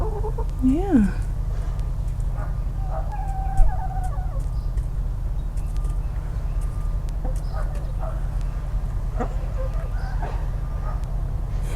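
Several chickens cluck softly nearby over a steady low hum, with a brief word spoken partway through.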